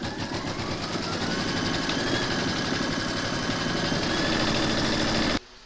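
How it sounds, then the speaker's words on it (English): An embroidery machine stitches a placement outline on stabilizer with a steady, fast mechanical whir and rhythmic needle chatter, running continuously before stopping abruptly near the end. "load file B into your machine, and then you're going to stitch round number one"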